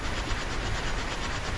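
Train rolling along the rails in the Railworks simulator, a steady, continuous rumble with a faint rhythmic clatter and hiss that holds evenly throughout with no talk.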